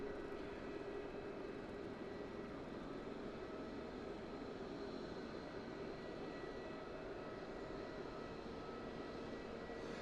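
An ATR turboprop at Southend Airport, a faint, steady engine drone with a sustained tonal hum, heard from a distance and continuous with no talk over it.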